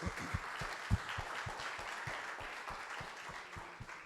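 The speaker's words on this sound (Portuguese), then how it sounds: "As palmas ao Senhor." A church congregation claps together in a steady, rhythmic beat during a service, a continuous wash of hands filling the room with no one speaking over it.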